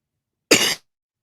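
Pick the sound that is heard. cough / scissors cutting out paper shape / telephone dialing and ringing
cough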